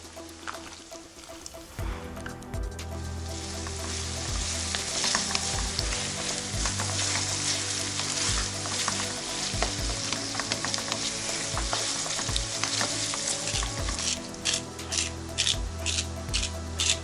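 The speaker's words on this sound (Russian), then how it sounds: "Еще сейчас лук жареный будет." Onions frying in a pan for a Komi-style mushroom julienne, a loud steady sizzle with scraping stirs running throughout, close and alone without talk.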